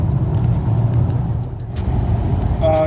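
A 16-year-old BMW E46 car on cruise control during a long road trip, a steady low road and engine rumble from inside the cabin with a faint electronic beep near the end, no talking.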